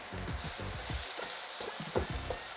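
Cabbage cut into fettuccine-sized strips fries in a pan, giving a steady close sizzle broken by repeated scraping and tossing strokes from stirring.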